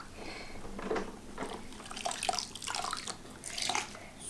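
Toy cars, Lightning McQueen and Mater among them, are washed in a bathtub: water splashes and drips in uneven bursts with small plastic knocks, close and moderately loud, with no one speaking.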